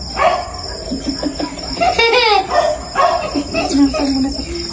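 A dog barks and yips several times, close by, mixed with people talking and a high, steady insect-like whine in the background.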